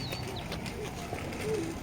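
A breeder's pigeon gives soft, low cooing calls, faint and close, against a quiet room hum with a few light bird chirps in the background.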